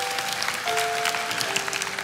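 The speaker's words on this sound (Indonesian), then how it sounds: "Kasih tepuk tangan untuk Tuhan." A church congregation applauds during a sermon, a steady broadband patter of clapping lasting about two seconds, with faint tonal hum underneath.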